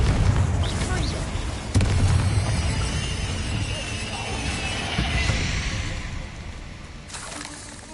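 Spell explosions from Bombarda and Confringo in the video game Hogwarts Legacy land as deep booms and crackling bursts, with several sharp impacts over a rumbling, busy battle backdrop and occasional voices.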